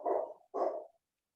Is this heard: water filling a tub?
no